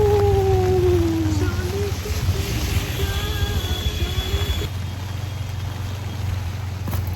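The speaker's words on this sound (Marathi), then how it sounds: "पाऊस पडतोय खूप." Heavy rain pours down outdoors as a steady, dense wash of noise, with a passing vehicle or horn tone early on and a faint voice briefly under it.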